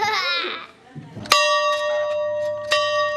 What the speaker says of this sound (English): the old Rocky Branch school bell could be heard over the hills and through the hollows